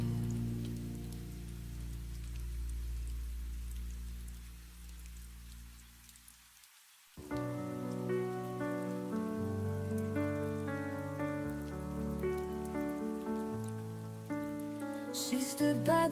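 Rain falls steadily on a surface, a soft wide hiss in the background, and about halfway through gentle melodic music with sung notes rises over it and continues to the end.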